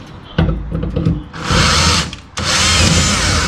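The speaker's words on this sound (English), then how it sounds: "So I guess we're going to demo drilling out rivets." A power drill with a 1/8 bit drills out aluminum rivets on a jon boat's front deck framing, giving two loud, sustained whining bursts close up after some handling clatter.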